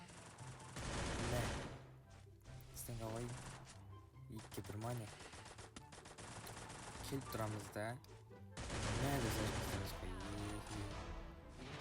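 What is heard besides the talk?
gunfire in Free Fire video game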